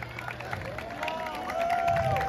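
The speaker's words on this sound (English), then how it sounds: "A big round of applause for this amazing performers." Audience at a medical college flashmob cheering and applauding after the performance, a crowd roar of claps and shouts that swells louder toward the end, with some vocal sounds on top.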